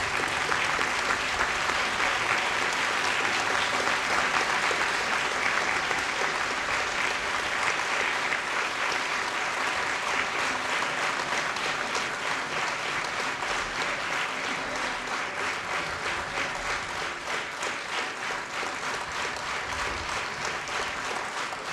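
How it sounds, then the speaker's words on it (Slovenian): Steady audience applause for the two conductors of a brass band, a continuous, even wash of clapping that lasts over twenty seconds and slowly tapers off. "Zdaj pa na oder z enim aplavzom povabimo še enkrat oba dirigenta"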